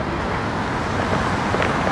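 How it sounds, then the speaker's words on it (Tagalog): Interior of a taxi moving through traffic: steady, loud broadband road and engine rumble with continuous tire noise and no talking. "Kasakay na kami ng taxi."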